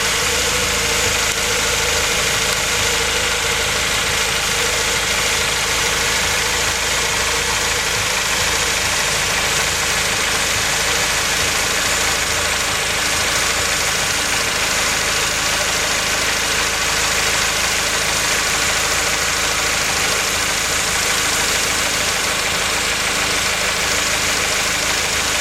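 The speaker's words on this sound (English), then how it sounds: "Okay, the engine's running now" A Honda Prelude engine idles steadily with a running timing light connected, its even mechanical hum and faint knocking texture constant and fairly loud throughout, with no voices.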